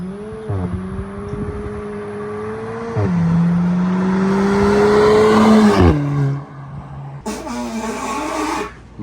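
Ford F150 pickup with a 5.0 V8 and S&B intake, engine revving up and holding several times with brief gear-change drops, loud and close, then a short pause and another rev.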